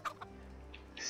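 Chickens cluck softly in the medieval open-world game Kingdom Come: Deliverance, a few short, faint clucks spread across a brief quiet moment with low background hum.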